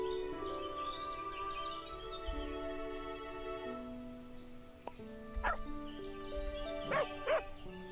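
A dog in the farming game Everdream Valley gives a few scattered barks and yips over soft music and ambient crickets, fairly faint and intermittent.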